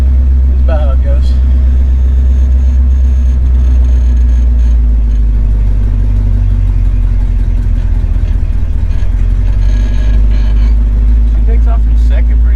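A 53-year-old truck engine runs loud and close with a deep, steady rumble and slight revving, while people talk over it throughout.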